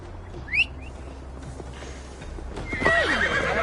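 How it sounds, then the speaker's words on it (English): In the Assassin's Creed Valhalla video game, a horse's hooves clop along while a bird chirps early on, then the horse lets out a loud, close whinny near the end. "Mount up, Eivor. It's a long ride to Tamworth."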